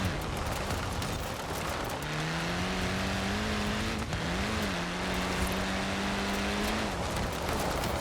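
A Turbo Rally engine in the Forza Horizon 4 racing game drones and climbs steadily in pitch as the car accelerates, dips briefly while it slides through a corner, then pulls again, loud and continuous over a constant rushing background.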